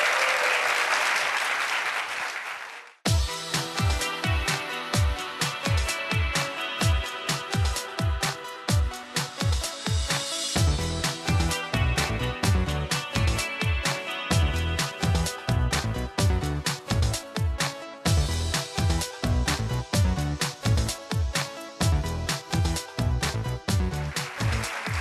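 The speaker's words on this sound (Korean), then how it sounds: "박수 주세요." Applause from the audience at a youth startup talk greets the speaker for about three seconds. A loud music track with a strong, regular beat then cuts in abruptly and plays to the end.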